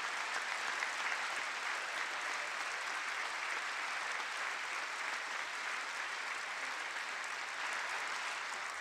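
A chamber audience at the 2018 State of the Union claps in a long, even wash of applause, steady and somewhat distant, with no voices rising above it.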